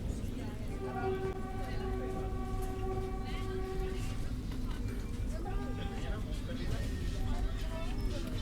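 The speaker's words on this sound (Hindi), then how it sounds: "यहाँ अपना पैरेलल डिपार्चर हुआ है हापा श्री माता वैष्णो देवी कटरा सुपरफास्ट एक्सप्रेस के साथ।" A Vande Bharat Express pulls out in parallel with a superfast express train, giving a steady rolling rumble and a long sustained horn tone that fades, then quieter horn notes, with people talking over it.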